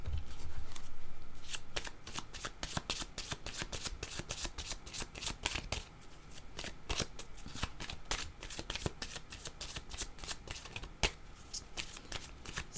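Cards being shuffled over and over during a tarot-style card reading, a close, steady run of crisp riffling flicks lasting throughout, with no talking.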